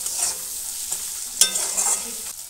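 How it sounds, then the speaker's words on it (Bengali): Taro and prawns fry in a pan with green chilli, chilli powder, coriander powder and cumin paste, sizzling steadily while a spatula scrapes and stirs in a few sharp strokes. "মশলার সঙ্গে কচুটা ভালো করে কষিয়ে নিয়েছি"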